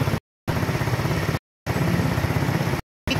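A Russe Royal 125 motorcycle engine runs close by with a steady, even mechanical chatter, heard in three stretches separated by short silent gaps.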